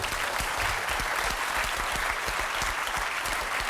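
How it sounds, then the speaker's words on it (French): Studio audience on a French TV game show applauding, dense sustained clapping from many hands filling the whole stretch, loud and continuous. "Merci, on les applaudit."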